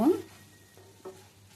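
Chopped ivy gourd and tomato softening in a pan, a soft steady sizzle with faint stirring scrapes, brief and close, with a voice briefly heard.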